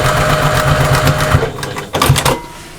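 A sewing machine runs a seam on a pouch, a steady close whirring rattle of fast needle strokes that stops briefly, then starts again in a short back-stitch burst.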